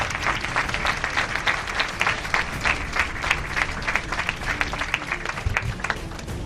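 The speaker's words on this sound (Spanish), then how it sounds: "alabemos a Cristo Jesús con nuestras palmas" A church congregation claps their hands in praise of Christ: dense, steady applause from many hands, loud and close, running without pause and with no talk over it.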